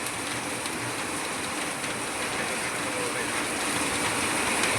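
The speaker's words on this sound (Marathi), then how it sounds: "तर बघा पाऊस कसा दणादण चालू आहे इकडं" Heavy monsoon rain pours down steadily outdoors in Akole, a dense, continuous roar of drops on surfaces that stays loud and unbroken throughout.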